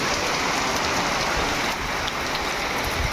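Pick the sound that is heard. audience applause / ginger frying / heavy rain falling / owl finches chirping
heavy rain falling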